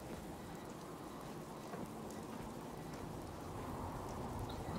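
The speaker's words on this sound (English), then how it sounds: "It sounds like there's something like a storm," Steady, dense rain and storm ambience from the video game Fallout 4, a constant hiss of downpour with low rumbling underneath, holding evenly loud throughout with no talking.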